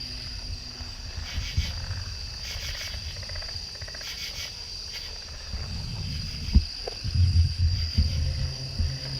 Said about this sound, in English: Damn, them frogs having an orgy or something.